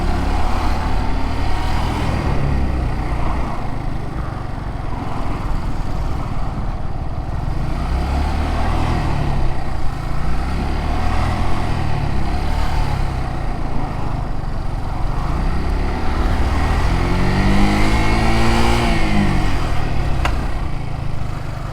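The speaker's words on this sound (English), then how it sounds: "let's wait for this bus to pass and we'll start filtering" A bus rolls past on a roadside, a steady broad engine and tyre rumble mixed with wind noise, rising into a deeper swelling drone as it goes by toward the end.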